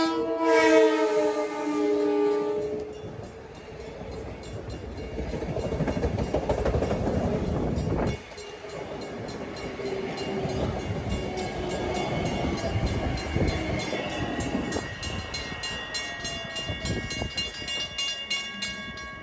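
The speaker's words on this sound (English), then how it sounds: "M7 train to Atlantic Terminal," An LIRR M7 electric train passes Gibson station on a Brooklyn-bound run to Atlantic Terminal. A loud horn blast opens, then a sustained rumbling roar and rail clatter hold steady close by, with no talk.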